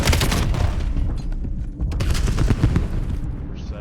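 Grenade blasts and gunfire fill a competitive video game match. Rapid, dense bursts of shots and booming hits run close and loud with no pause, and no voices sit over them.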